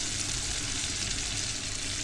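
Tomatoes added to a hot pan of frying onions for stuffed vegetables (mahshi), giving a steady, close hiss of sizzling oil that stays even and unbroken throughout, with no voices.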